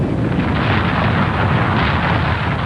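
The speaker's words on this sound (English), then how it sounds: "A tremendous explosion." A tremendous volcanic explosion from the Mount St Helens eruption, a continuous loud, deep roaring blast that rumbles steadily without letup, with no voices present.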